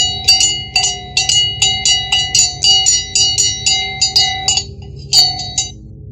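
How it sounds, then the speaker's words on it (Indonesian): A hand bell on a soto seller's carrying pole in old Surabaya rings in quick, steady metallic strikes, about a dozen in a row, a short pause, then a few more rings, bright and close with no talk. "Dan ada bunyi semacam lonceng."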